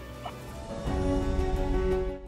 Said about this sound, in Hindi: ये तो मुर्गा है, ये भी हमारा मुर्गा आपने देखा हुआ है